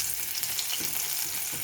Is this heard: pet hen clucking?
no